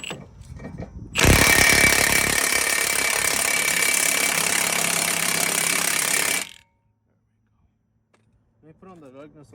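An impact wrench or power tool tightens a lug nut on a 2017 Infiniti Q60 AWD wheel, a loud sustained buzzing burst lasting about five seconds, then stopping abruptly, with a voice speaking briefly afterward.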